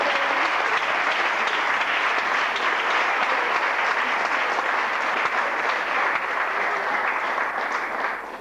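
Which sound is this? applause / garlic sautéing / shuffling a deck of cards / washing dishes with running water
applause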